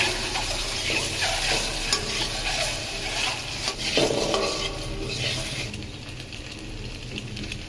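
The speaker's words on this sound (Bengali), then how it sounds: "ডিম ভাজা হচ্ছে" An egg fries in a kadai (wok), a loud steady sizzle mixed with stirring scrapes and utensil clinks against the pan, easing slightly toward the end, with no talking.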